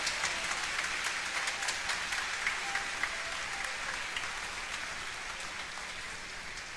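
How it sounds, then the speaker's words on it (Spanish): Crowd applause at an outdoor Catholic mass honoring the Virgin Mary, a dense steady patter of many hands clapping that carries on for several seconds and slowly softens toward the end. "¿Cómo están esos aplausos a la reina?"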